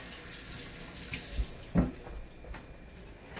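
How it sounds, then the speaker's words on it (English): Tap water runs steadily into a kitchen sink while hands are washed beneath it, a soft continuous hiss with a few small splashes and clunks, fairly quiet and alone. "Gotta wash my hands."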